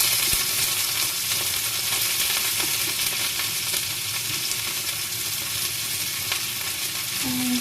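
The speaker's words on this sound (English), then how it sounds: "Then we add a cabbage." Cabbage hits a hot pan and is stir-fried, a loud, steady sizzle filling the whole stretch with scraping stir strokes running through it.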